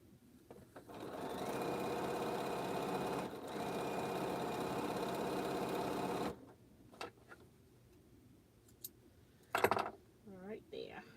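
A sewing machine stitches quilt blocks in a steady, fast whirring run for several seconds, then stops, followed by faint handling clicks and a brief quiet voice.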